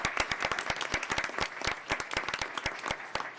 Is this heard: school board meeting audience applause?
yes